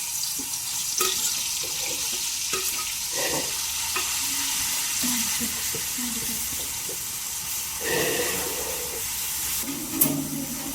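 Garlic, green chili and chopped coriander fry in oil over a small wood fire, giving a steady close sizzle and hiss with intermittent stirring scrapes throughout.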